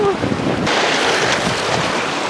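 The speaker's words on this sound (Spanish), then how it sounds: "Esta agua está potente." A strong forest river rushes loudly and steadily nearby, a dense broadband roar of flowing water with some wind buffeting the microphone.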